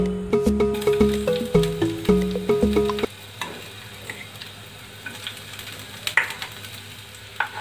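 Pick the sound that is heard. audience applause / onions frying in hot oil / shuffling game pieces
onions frying in hot oil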